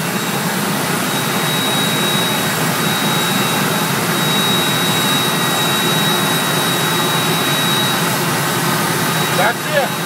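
PT6 turboprop engine running steadily, a loud continuous turbine roar with a high whine, close by and unbroken, while people talk faintly beneath it.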